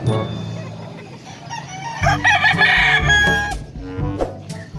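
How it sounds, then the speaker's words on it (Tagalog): A rooster crows loudly up close amid a busy chorus of clucking chickens for sale at an animal market in Angeles, Pampanga, with market noise in the background. "Natin yung manok na binibenta."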